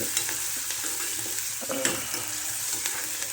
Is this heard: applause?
no